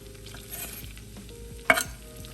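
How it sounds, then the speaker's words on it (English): Four cloves of chopped garlic sizzling in melted butter in a pan, a soft steady fry with light stirring and one sharp clatter of a utensil near the end, close and fairly quiet, no talking. "So into the butter, you're gonna add your garlic"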